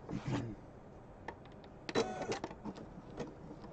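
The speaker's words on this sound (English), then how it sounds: "So while this sews out," Embroidery machine stitching out a Christmas ornament, heard faintly as a rapid mechanical clatter with short bursts of needle ticks and motor whirs, quiet and close in an otherwise still room.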